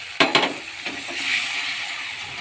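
Dissolved Amul milk is poured into a pan of frying spice masala for fish malai curry, giving a couple of sharp hissing bursts that settle into a softer, steady sizzle.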